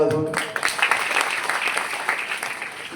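An audience at a wildlife week nature school event claps for the organisers, a sustained round of applause that rises after a brief spoken lead-in and carries on steadily to the end.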